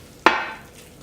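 A spoon gives a single sharp scrape and clatter in a pot of vegan curry with roasted cauliflower, followed by a short fading wet rustle and then quiet.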